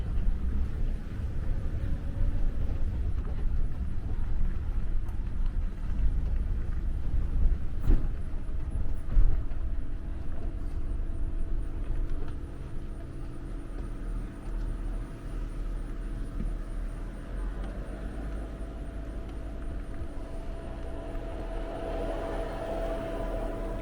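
Car driving down a road, a steady low engine and road rumble from inside the cabin that eases slightly partway through, with no talk.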